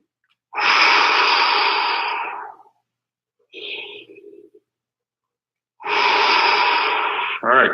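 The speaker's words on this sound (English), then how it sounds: "Each breath in, build that air up into the armpits and get taller. Each breath out, sink into your hips." Deep breathing in and out during a Kinstretch stretching class: two long, loud, airy breaths near the microphone with a shorter, softer breath between them.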